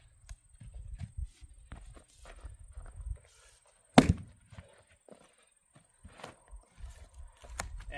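An axe strikes an elm log once with a sharp, loud crack in the middle of the clip, surrounded by quieter shuffling and handling noises outdoors.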